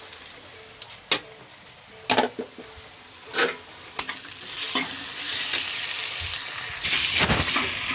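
Ginger garlic paste frying in a pan for prawn coconut curry, a close steady sizzle growing louder, punctuated by sharp ticks and scrapes of a spoon stirring.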